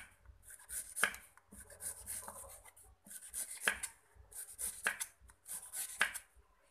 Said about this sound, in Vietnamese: Bây giờ chúng ta sẽ xắt ha, các bạn lưu ý là mình xắt mỏng nha các bạn.